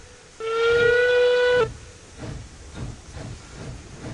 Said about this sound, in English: with our new locomotive